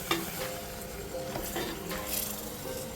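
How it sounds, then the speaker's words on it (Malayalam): Marinated chicken for restaurant-style chicken chukka tossed into a hot pan, giving a steady close sizzle with occasional stirring scrapes and light utensil clinks throughout, no voices. "മാരിനേറ്റ് ചെയ്ത് വെച്ച ചിക്കൻ കൂടെ നമുക്ക് അതിനകത്തേക്ക് ഇട്ട് കൊടുക്കാം."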